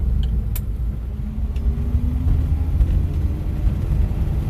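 A Nash car's engine pulls away from a green light in first gear, a steady loud low rumble with a faint rising tone, close inside the car and continuous throughout.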